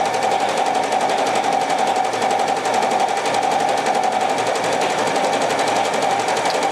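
An embroidery machine stitches a programmed design with a steady, loud, fast mechanical whirr and needle chatter that runs unbroken throughout.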